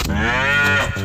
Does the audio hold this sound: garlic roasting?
no